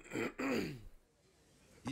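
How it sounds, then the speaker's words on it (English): A man clears his throat in two rough, near bursts, with a faint quiet stretch between them and a last short rasp at the end. "clear my throat like every 5 seconds"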